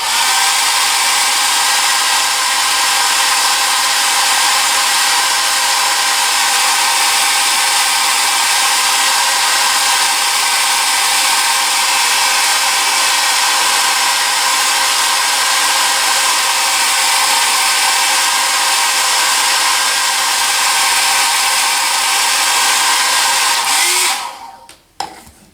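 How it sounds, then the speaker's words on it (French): A hair dryer blows loudly and continuously for over twenty seconds, a steady close-up whooshing roar that stops abruptly near the end, followed by a brief click. "je mets un coup de sèche-cheveux, les amis"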